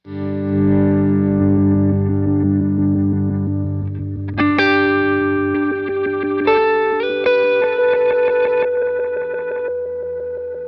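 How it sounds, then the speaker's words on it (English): Electric guitar run through a Meris pedal on a glitch setting, sustained distorted chords with abrupt stuttering pitch jumps and shifts, loud and alone without talk. "Now this is just glitch."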